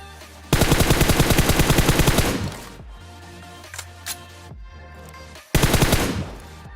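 Bursts of automatic gunfire from teammates in a video game, loud rapid rattling volleys in two long stretches with a few scattered single shots and game noise between them.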